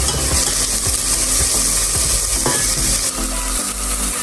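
Oil sizzles steadily in a pan while frying for lasagne, a continuous bright hiss with intermittent scraping and stirring clicks from a utensil, close and fairly loud.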